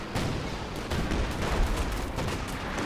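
Rapid bursts of machine gun fire mixed with other gunfire and explosions in the World War II strategy game Company of Heroes 2, dense and continuous throughout with no clear gaps.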